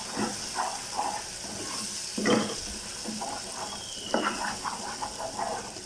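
Garlic chutney in oil sizzles and hisses steadily in a pan, a close, continuous crackle with small pops and no talking.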